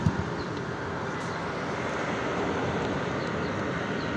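A bus approaching along a road, heard as a steady, broad engine and traffic rumble that holds at a constant level throughout, with no talking.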